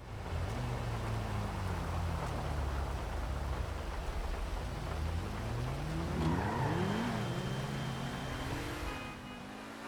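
Pegassi Ignus supercar in GTA, modeled on the Lamborghini Sián FKP 37, driving with a steady engine drone whose pitch swings up and down through gear changes and revs under a continuous road hiss, no speech.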